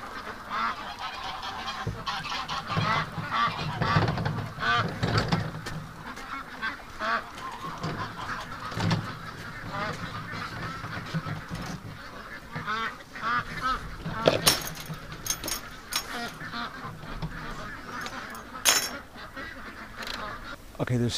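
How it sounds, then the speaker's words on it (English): A flock of ducks kept as pets honks and quacks insistently nearby, overlapping calls rising in bursts across the whole span, busiest toward the end, with a person speaking briefly. "Okay, ducks, let me through."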